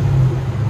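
A 1995 Ford Mustang GT 5.0L V8 with dual Flowmaster Super 10 exhaust and X pipe rumbles loudly in a brief, close burst.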